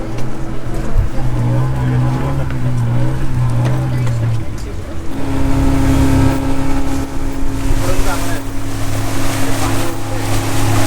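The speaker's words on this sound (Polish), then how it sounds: "Lecimy na następną łódź, która jest trochę mała." A small motorboat engine drones loudly as the boat crosses open sea between the Gili Islands and Nusa Penida, with splashing and wind noise; the engine pitch shifts partway through.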